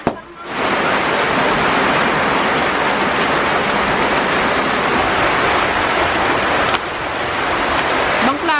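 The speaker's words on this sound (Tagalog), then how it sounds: "Bumakas na ang ulan." Heavy rain pours down in a dense, steady roar, loud and close, filling the whole stretch with constant hiss and patter and no gaps.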